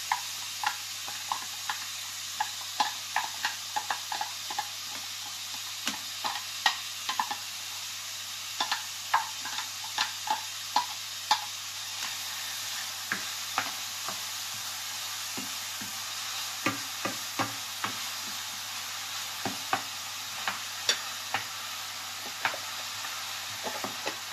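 Onion and garlic sizzle and crackle in a hot frying pan as they go in, a steady close hiss broken by scattered ticks and stirring clicks, with no talking.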